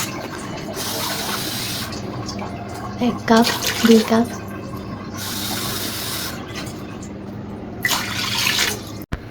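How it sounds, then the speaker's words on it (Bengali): Water pours into a pan in long splashing bursts for the sugar syrup of gulab jamun, with gaps between pours and a voice speaking in between. "তো এখন পানি দিয়ে দিচ্ছে রাহা"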